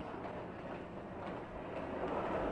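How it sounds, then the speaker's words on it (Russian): A train pulling away from a platform rumbles steadily with a low, continuous roar, with no voices. "Поезд вздрогнул и медленно поплыл мимо перрона"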